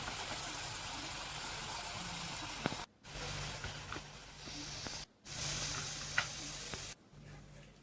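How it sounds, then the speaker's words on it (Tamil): Potato pieces fry in hot oil with a continuous close sizzling hiss and occasional crackles. The sound breaks off abruptly a few times. "உருளைக்கிழங்க பொரித்து எடுத்து வச்சுக்கலாம்"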